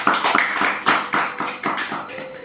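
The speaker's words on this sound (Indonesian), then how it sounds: "tepuk tangan lagi" A small audience at a health-water talk claps in a quick series of sharp, rhythmic bursts, close and fairly loud, fading slightly toward the end.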